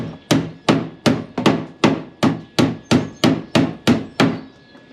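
A hammer strikes metal floor panel ends of a Range Rover Classic while bending them, eleven sharp, evenly spaced ringing blows, loud and close with no talking.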